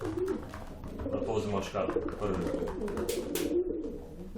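Sport pigeons in a loft coo softly and repeatedly in the background while someone talks over them, with occasional wing flutters and rustles.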